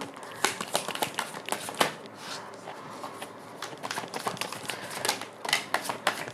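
Tarot cards riffled and shuffled by hand in a quick series of crisp, fluttering bursts and taps, close and fairly quiet, with brief pauses between shuffles and no talk.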